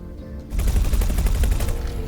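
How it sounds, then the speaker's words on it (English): Rapid, sustained gunfire from spaceship weapons in the space game X4: Foundations, a dense stream of shots that starts suddenly after a short quiet lead-in and stays loud to the end. "Okay, you can stop shooting it now."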